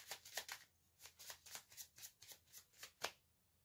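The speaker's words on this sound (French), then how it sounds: "Je vais d'abord tirer les cartes du tarot, ensuite des oracles et les charms." Tarot cards being shuffled by hand, a quick run of soft riffling flicks and slaps in an uneven rhythm, close and quiet, with no voices.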